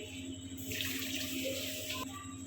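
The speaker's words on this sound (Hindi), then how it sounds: "अब इसमें 2 गिलास पानी ऐड होंगे।" Water pours from a glass into a pot for fresh mango juice, a bright splashing rush lasting about a second and a half against a low background hum, with no talk.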